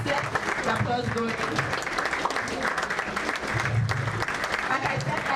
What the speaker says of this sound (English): Let's get the applause going.